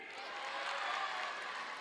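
An audience at a 2019 Latino youth conference applauding and cheering together, a steady wash of clapping and crowd noise that holds at an even level throughout.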